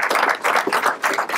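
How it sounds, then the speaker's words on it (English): Dense applause from a ceremony audience honouring a career development and HR team, steady clapping filling the room with no voices over it. "If you will, please give them a big round of applause."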